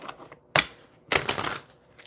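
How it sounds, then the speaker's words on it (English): A deck of cards, used for a spiritual card reading, is shuffled in two close, crisp bursts: a short riffle followed by a longer one, with no voice over them. "Okay, so we'll just start shuffling."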